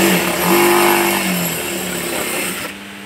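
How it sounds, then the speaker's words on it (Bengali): A sewing machine fitted with a size 16 needle stitches a small market bag, its motor giving a steady, loud, close whir that eases off slightly near the end. "এই যে ব্যাগ সেলাই করতেছি"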